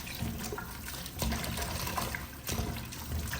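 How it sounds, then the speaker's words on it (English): Green bananas being rinsed under running water from a tap, a steady close splash and trickle with small shifts as the fruit is moved about. "give them a rinse."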